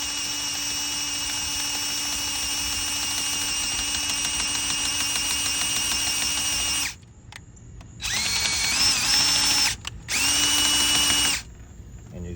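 Power drill whining steadily as it enlarges a hole in a copper battery terminal, running continuously for several seconds, then stopping and restarting in two shorter bursts with brief pauses between.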